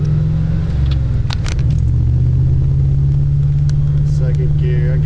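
A supercharged 1997 Ford Mustang Cobra engine rumbles steadily while driving on the road, a loud low drone that holds throughout, with no talk over it.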